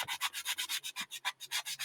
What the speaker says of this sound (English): This would be much easier with a nice clean piece of sanding paper